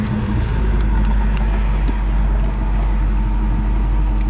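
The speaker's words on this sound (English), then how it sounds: "Sitting at the stop sign, running about 700 RPM. Sits here and idles perfectly." Engine of a 1979 Pontiac Trans Am idling at about 700 RPM at a stop sign, a loud, steady, deep rumble with an even low throb heard close up from inside the car.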